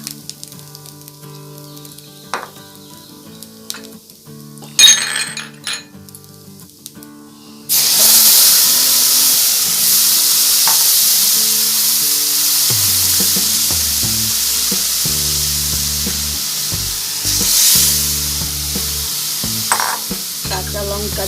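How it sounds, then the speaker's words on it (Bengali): Chana dal with grated coconut being stirred in a hot pan, first quiet scraping and tapping, then a loud continuous sizzle and hiss as the stirring goes on, with occasional spoon knocks. "নাড়াচাড়া করে দেব ডালটা।"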